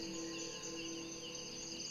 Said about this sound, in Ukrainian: Ви чуєте спів цикад